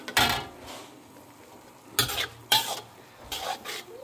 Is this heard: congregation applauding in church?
no